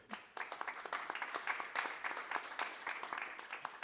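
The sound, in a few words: audience applause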